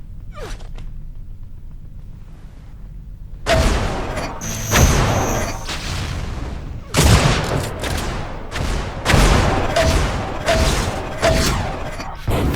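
Rapid gunfire and blasts in a Quake duel match from the ESL Duel Spring League, with repeated sharp shots and booms starting partway through and continuing densely to the end under faint commentary.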